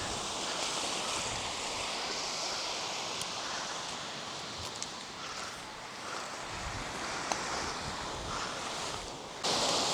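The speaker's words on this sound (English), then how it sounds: "So we're on the beach" Waves wash onto the beach at the abandoned Port Mulgrave in a steady, soft surf hiss mixed with wind buffeting the microphone, distant and fairly faint throughout.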